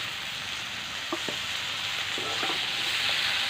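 Thinly sliced bitter gourd and potato sizzling in a pan over onion and garlic: a continuous moderate frying hiss with a few scraping stir sounds partway through.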